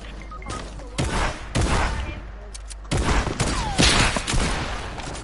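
Several bursts of rapid gunfire in Fortnite Creative, loud and close, arriving in clusters separated by short gaps, with some speech between them.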